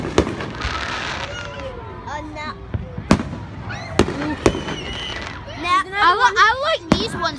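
Fourth of July fireworks bursting and scattering outdoors, with several sharp distant bangs followed by crackling, fizzing sparks and whistles, while people chatter nearby.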